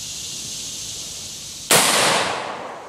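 A single sharp, loud rifle shot from an H&R .223 or Marlin .22 LR fired outdoors at a busted computer mouse target. The crack lands after a steady background hiss and trails off in a lingering echo, with no talking.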